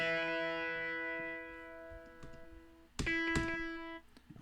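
An electric guitar sent through a delay effect on an aux track rings out a sustained note whose echoes fade, then a second strummed chord rings and decays, clean and close.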